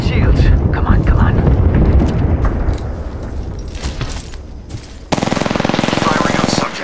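Gunfire in a shooter video game: rapid bursts of automatic shots and booming impacts, ending in a steady buzzing stream of fire, with in-game voice callouts over the shooting.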